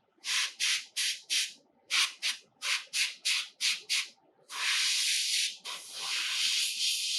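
Short bursts of compressed air from an airbrush, used to dry each thin paint layer on a Doctor Octopus miniature: about a dozen quick close puffs in a steady rhythm, then longer continuous hissing blasts.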